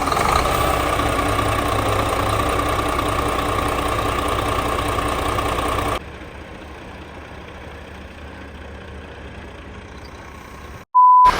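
Scania coach bus engine idling at a stop, a steady loud diesel rumble for about six seconds that then drops to a quieter hum, ending with a short electronic beep.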